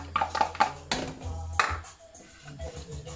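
Onions go into a pan on fairly high heat, with sharp metallic clinks and knocks of utensil against pan, a few quick taps then scattered bumps with quieter gaps.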